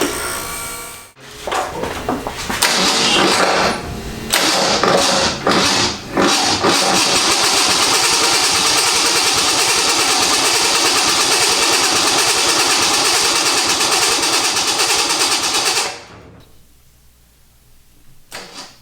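A project car's engine cranks with a few short bursts, then catches and runs at a loud, steady idle close by for roughly ten seconds before it shuts off abruptly, leaving a faint residual hum.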